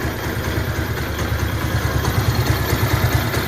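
A Chinese Spark 125 moped, recently crashed, idles at close range with a quiet, even low putter and a light clattery rattle from the plastic bodywork, steady throughout with no voices.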